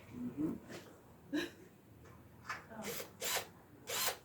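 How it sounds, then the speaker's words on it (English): Several short bursts of a power drill fitted with a number 4 bit, run in quick on-off pulses at close range, with pauses between each whir and a faint scrape of the workpiece. "The drill bit is the number 4."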